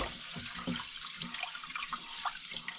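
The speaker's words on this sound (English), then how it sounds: "Put some more water." Tap water runs into a pot of rice being rinsed, a faint, steady splashing and trickling with small gurgles, no talking over it.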